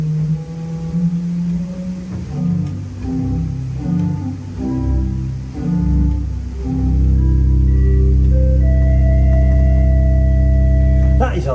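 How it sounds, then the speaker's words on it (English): A pipe organ's 16-foot double open diapason stop on the great sounds deep, sustained notes that change in steps and swell to a broad, loud held chord, played alone without talk. "the first stop on the grate is a 16-foot double open diapason, and it sounds like this"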